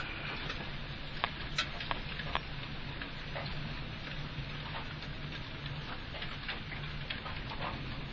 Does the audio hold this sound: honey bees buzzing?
no